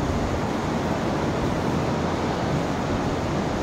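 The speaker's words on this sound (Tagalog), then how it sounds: "medyo mahangin kasi malamig na dito sa Taiwan" Steady wind blows across a Taiwan seaside, a broad continuous rushing roar with surf-like texture, loud and close, with no talking.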